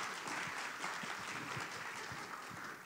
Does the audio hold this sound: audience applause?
yes